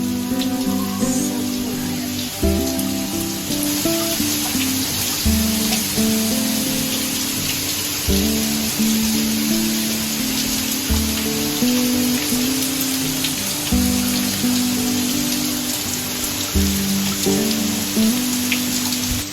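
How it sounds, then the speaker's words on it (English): Steady rain patters continuously on a surface, a dense wash of drops with low rumbling tones underneath, no voices. "Dance in the rain!"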